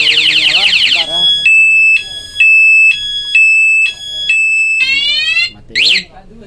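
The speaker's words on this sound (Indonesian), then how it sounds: "Alarmnya sudah aktif ya. Kena senggol langsung bunyi." Aftermarket alarm siren on a Honda Supra X 125 motorcycle, loud and close, cycling through piercing warbles, steady chirping bursts and rising sweeps over about six seconds.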